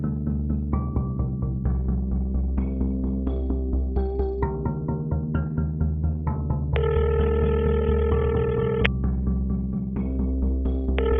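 A telephone keeps ringing unanswered in a Hindi film scene, its tones repeating in a steady pattern over a layered background of music and murmuring.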